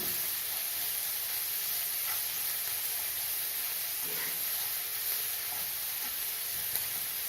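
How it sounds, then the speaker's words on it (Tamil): Onions sautéing in a pan with rock salt while an egg pepper gravy is prepared, a constant even hiss of sizzling with faint stirring touches throughout. "வெங்காயம் நல்லா வதங்கட்டும்"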